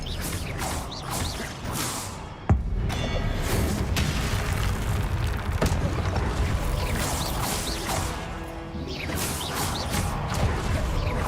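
Crackling spell blasts and magical explosions in a Hogwarts video game, a dense continuous clatter of whooshes, creaks and booms with a few sharp impacts standing out.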